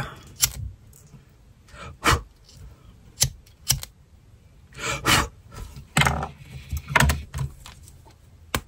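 Scissors snip through the tie on a catapult rubber band set, heard up close as a scattered series of sharp clicks and snips separated by short quiet gaps.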